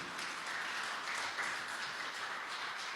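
A church congregation applauds in praise, with sustained, even clapping from a large group that fills the room at a steady level from start to finish.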